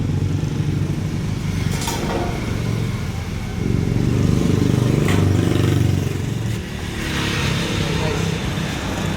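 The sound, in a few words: motorcycle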